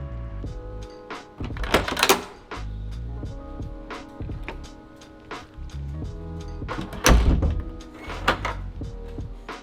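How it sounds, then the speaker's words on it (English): A Kaadas K9 digital mortise door lock works its latch open with loud, repeated mechanical clunks and whirring thuds, close and busy, building to heavier knocks near the start and middle. "This loud sound is mainly due to the fact that this is a mortise lock."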